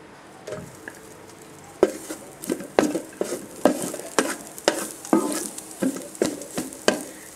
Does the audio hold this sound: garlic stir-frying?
yes